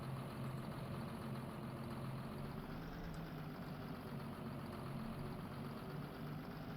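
A farm tractor in Farming Simulator 22 idles steadily with a low, even engine rumble that holds constant throughout, with no talk.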